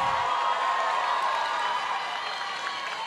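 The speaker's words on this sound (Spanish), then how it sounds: "Fuerte el aplauso." An audience at an international festival in Acapulco, at the Palladium, breaks into dense, sustained applause mixed with cheering that fades slightly toward the end.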